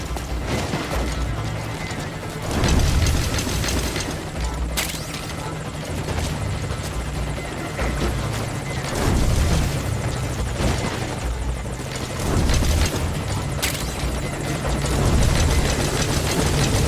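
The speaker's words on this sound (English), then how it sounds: "I'm sending a chopper to pick you up." Helicopter arriving in Metal Gear Solid V, a steady loud rotor thrum throughout with engine whine and a few sharp clanks, over a dense game soundscape.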